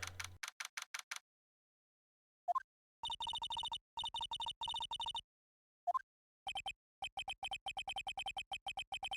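Electronic beeping from the Phoenix Wright: Ace Attorney Trilogy game, resembling a Tamagotchi-style toy: quick runs of short, evenly spaced tones broken by pauses and a couple of rising chirps, clean and alone.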